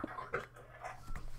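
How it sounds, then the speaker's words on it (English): A dog in the background of an indoor room gives faint panting and soft whimpering sounds, quiet and intermittent. "that's my dog in the background"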